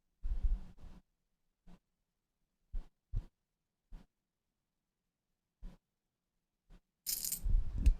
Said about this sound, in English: we're looking to hear a little ching ching noise going on in there soon